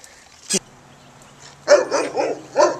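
A dog barks sharply once, then lets out a quick run of four close, loud barks, heard over faint outdoor background noise.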